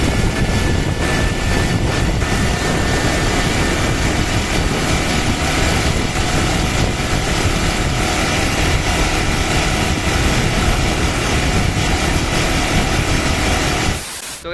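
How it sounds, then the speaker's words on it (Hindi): A Hero Xpulse 200 4V motorcycle engine gives a loud, steady roar continuously with broadband hiss, then cuts off abruptly near the end. "कि इसका इंजन साउंड जो है ना किस तरह से आता है"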